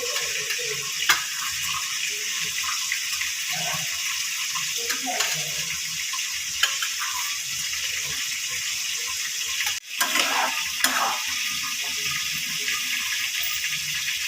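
Prawns cooking in a spice masala with a little added water and pre-fried potatoes for a Bengali potol chingri curry, giving a steady close sizzle with occasional stirring scrapes and clinks throughout, no voices.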